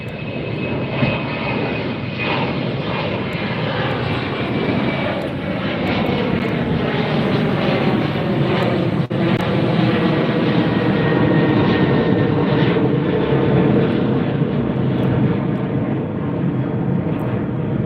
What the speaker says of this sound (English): we have a departure Delta Airlines 2640 heading for Seattle. Double departure.